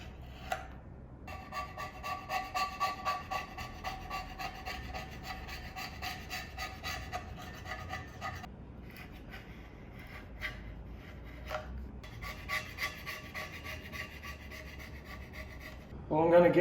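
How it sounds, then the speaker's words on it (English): Old sealant being scraped off the manifold of a small-block 327 engine in a 1934 Chevy truck, a steady rasping rub in repeated strokes with short pauses, close up, with a person breathing nearby. "What I'll do now is I'll clean up all this elastic off this manifold"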